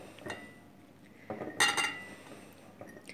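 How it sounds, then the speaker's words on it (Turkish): Loquats being packed by hand into a glass jar for homemade vinegar pickling, with a few light clinks and knocks against the glass, the loudest cluster in the middle, close and without talk. "Şimdi eriklerimizi güzelce dolduruyoruz."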